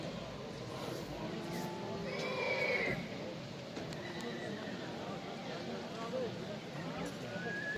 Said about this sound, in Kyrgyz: Жоон ат экен.